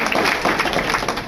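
Audience members at a convention comedy panel applaud, a loud, dense burst of clapping that continues steadily throughout.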